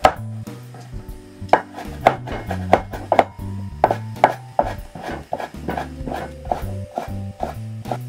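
Knife julienning cucumber on a cutting board, sharp close chops landing in an uneven but quick run against a quiet background, with no voices.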